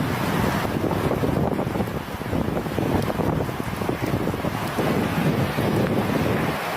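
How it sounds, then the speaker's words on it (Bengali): Heavy rain driven by strong wind roars continuously, a dense broadband rush with buffeting gusts and wind noise on the microphone, loud and unbroken throughout. "অনেক বৃষ্টি হচ্ছে। বৃষ্টির সাথে সাথে অনেক বাতাস।"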